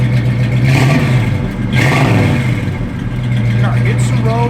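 A 1970 AMC Javelin SST on the road, its engine revving and droning loudly in waves up close, with rattles and clatter over the steady hum and people talking over it.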